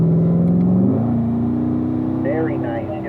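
A Corvette on a race track at a driving school accelerates hard, its engine note climbing sharply in pitch about a second in, then holding a steady, nearby whine.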